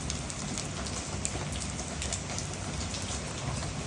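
Rain falls steadily in Nabire, Papua, a constant close hiss of drops pattering on surfaces with no voices over it.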